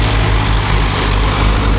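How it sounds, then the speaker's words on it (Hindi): Tractor engine made in India, hauling itself out of water, runs as a steady low rumbling drone with a pulsing beat, loud and close, with no voices. "इस तरफ से भाई साहब ट्रैक्टर को निकाल रहे हैं। मेरे भाई पानी के अंदर से निकालना काफ़ी मुश्किल है।"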